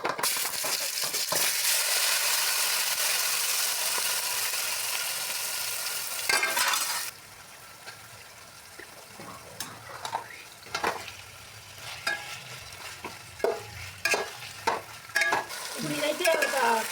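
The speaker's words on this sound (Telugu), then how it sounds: "ఇప్పుడు చికెన్ మొత్తం వేసేస్తున్నానండి దీంట్లోకి." Marinated chicken pieces tipped into hot oil with whole spices such as cloves and cardamom for biryani, giving a loud, steady sizzle for about seven seconds, then quieter frying with scattered scraping stirs and utensil knocks, with no talking.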